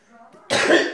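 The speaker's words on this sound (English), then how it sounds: "I did not cough over my food." A single loud, harsh cough bursts out close by after a quiet voice, followed by a short second rasp at the end.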